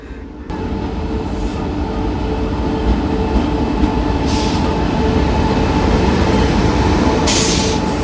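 The Thiruvananthapuram–Mumbai Express rumbles loudly and steadily at Alappuzha station, the heavy rolling noise starting abruptly and holding, with faint brief squeals over it.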